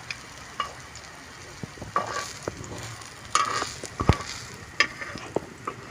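Chicken kebab patties frying on a tawa griddle, a continuous close sizzle broken by scattered clicks and scrapes as the patties are moved and turned.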